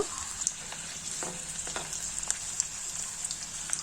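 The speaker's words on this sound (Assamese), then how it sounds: "এনেদৰে আলুখিনি ভাজা হ'ব।" Potatoes frying in a pan give off a steady, close oil sizzle with scattered small pops and crackles throughout.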